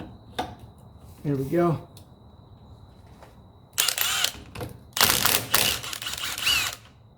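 A wrench works a 17 mm nut loose while wood trim is removed from a 1985 Mercedes 300SD, giving bursts of scraping and ratcheting clicks close by. Someone speaks briefly between the mechanical noises.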